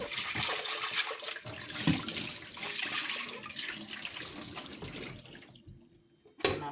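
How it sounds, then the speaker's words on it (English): Water runs steadily from a tap and splashes inside a blender being rinsed, close up, then cuts off briefly before a final gush. "I'm going to give my blender a good rinse."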